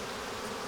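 Honeybees from a strong colony that wintered on ten frames buzz inside an opened hive, a brief, steady, dense hum with no voices.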